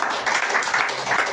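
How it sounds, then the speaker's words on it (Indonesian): A congregation at an Indonesian Christmas-season church service bursts into brisk, dense applause for God, close and loud the whole time with no gaps. "beri tepuk tangan sekali lagi buat Tuhan"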